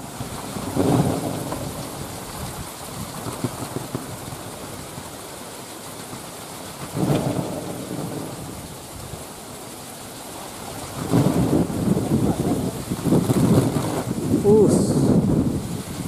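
A large 4-meter kolecer wind propeller, a competition winner at a kolecer festival, spins outdoors with a steady roaring rumble that swells and surges in waves amid gusty wind noise on the microphone.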